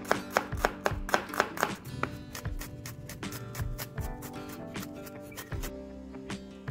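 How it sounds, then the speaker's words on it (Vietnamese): Garlic being minced with a knife on a board for a sauce, a rapid run of sharp, close chops that slows and softens toward the end. "mình băm tỏi để làm nước sốt."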